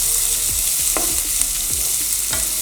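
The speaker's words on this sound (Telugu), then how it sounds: "మూడు పచ్చిమిరపకాయ చీలికలు వేసుకుందాం వేసుకొని వీటిని లైట్ గోల్డెన్ కలర్ వచ్చే వరకు ఫ్రై చేసుకుందాం" Onions, curry leaves and green chilli slits fry in an oil-filled pan for an egg fry, with a steady loud sizzle and several scrapes of a spoon stirring through it; no talking.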